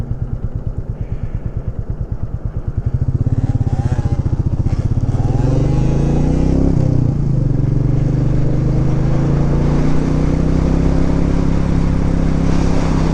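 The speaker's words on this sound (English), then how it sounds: "I hear a dirt bike." A dirt bike engine revs and drones loudly nearby, starting with a rapid putter and rising into a sustained, steady roar as it passes.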